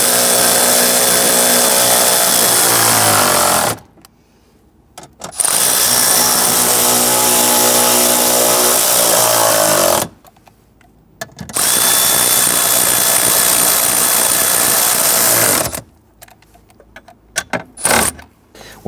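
A power tool tightens bolts on the dash of a 2011-2019 Ford Explorer during an HVAC blend door actuator repair, running in three long, loud whirring bursts separated by short pauses, with no talking.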